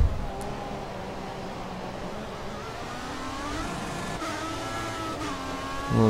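Formula One car in F1 2014 accelerating out of a corner at the Bahrain race, a steady high engine whine climbing in pitch over about six seconds, loud and close, with no talk.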